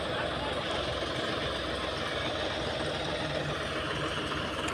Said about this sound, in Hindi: इतनी उस ट्रैक्टर में जान है कि वो खाली बहुत मुश्किल से निकल रहा है